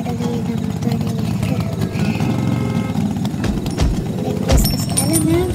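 A classic motorcycle in a racing video game idles with a steady mid-pitched engine rumble, nearly constant in level throughout, with game effects and faint chatter layered over it.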